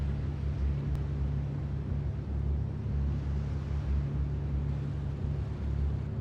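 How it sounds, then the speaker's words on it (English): The slowest boat in Grand Theft Auto: Vice City Stories drones along with a steady low engine hum, constant and fairly quiet with no break, heard on its own. "This is also the slowest boat, so that's why I want to get this one first."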